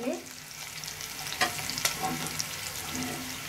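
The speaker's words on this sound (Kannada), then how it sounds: "ಶುಂಠಿನೂ ಸಹ ನಾ ತುಪ್ಪದಲ್ಲಿ ಕಲಿತಾ ಇದ್ದೀನಿ, ಒಂದು ಫ್ರೈ ಮಾಡ್ತಾ ಇದ್ದೀನಿ" Ginger frying in ghee for curd poha, a steady close sizzle with stirring scrapes and a couple of sharp clinks from the spoon against the pan.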